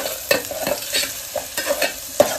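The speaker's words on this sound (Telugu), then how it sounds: "ఇప్పుడు ఆనియన్స్ వేసి అది కరివేపాకు వేసా. వేసి కొంచెం వేగనిద్దాం, బ్రౌన్ కలర్ వచ్చే వరకు వేయించుకోవాలి." Onions and curry leaves fry in oil in a pan for chicken machboos, with a bright sizzle broken by repeated scraping stirs of a spoon, close and clear, with no voices.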